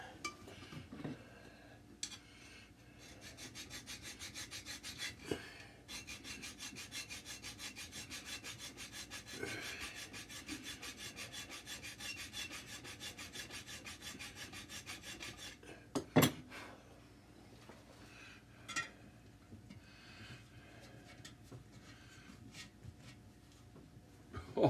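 A hand file rasps steadily against piston rings being fitted to a Cat 60 engine, making quiet, rapid metallic strokes for about fifteen seconds before a few scattered clinks and handling noises.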